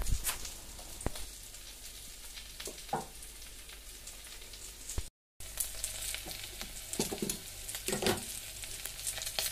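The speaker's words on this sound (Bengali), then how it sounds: "ভিন্ডি আলুটা প্রায় অর্ধেক ভাজা হয়ে গেছে" Steady oil sizzle and crackle of okra and potatoes frying in a pan, with occasional stirring scrapes and clinks, close up and continuous, with a momentary break.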